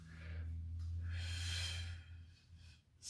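A deep inhalation during a counted breathing exercise in a boxing coaching session, one long airy breath drawn in close to the microphone over a steady low hum, then tapering off.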